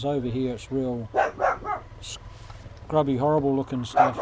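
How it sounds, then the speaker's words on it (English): A dog barks repeatedly in short bursts behind someone talking outdoors at a wild motorcycle hammock campsite in Western Australia's scrubby bush, the barks fairly loud and mixed with his voice. "That's my dog barking in the background."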